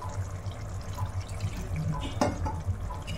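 Water poured from a bowl into yogurt for a Rajasthani gatte curry, a steady close splashing and dribbling stream with a brief sharper splash partway through, no talk.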